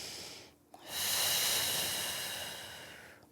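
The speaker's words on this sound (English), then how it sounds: "taking a couple big deep breaths." Deep breaths taken during a seated desk stretch, a long airy exhale after a short pause and a faint catch, near and clear with no talking.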